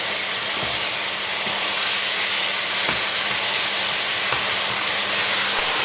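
Lamb mince frying in a hot pan for an aubergine dish, a steady loud sizzle and hiss that stays constant throughout, with a few faint clicks and scrapes underneath.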